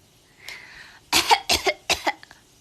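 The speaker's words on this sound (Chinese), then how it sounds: "怎么咳嗽的呀？" A one-year-old toddler fakes a cough, giving a faint breathy sound followed by three short, forceful coughs in quick succession, heard close and clear.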